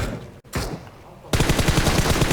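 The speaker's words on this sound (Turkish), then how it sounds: "Adam berille ne vuruyor arkadaş?" Beryl assault rifle fire in PUBG Mobile, a quiet stretch with a single crack, then a loud rapid automatic burst of evenly spaced shots close by.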